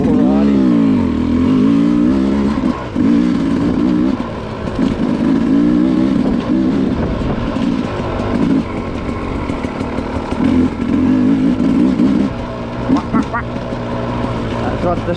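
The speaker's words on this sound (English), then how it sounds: "That's what the Sherco sounds like." A Sherco hard enduro motorcycle engine runs steadily close by at a low chugging idle with occasional throttle blips, loud and continuous throughout the clip.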